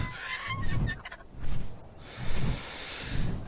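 A bird in the video game Ark Survival Evolved gives four short, throaty gobbling calls at a steady pace, fairly close and clear with no talk over them.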